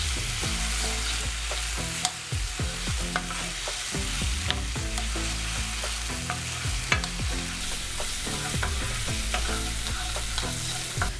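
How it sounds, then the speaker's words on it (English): Fresh onions frying and sizzling in a pot, a steady crackling hiss throughout with repeated sharp scrapes and clinks of a spoon stirring, close and continuous. "So you want to cook the onions until they've reduced almost about 1/3 in size"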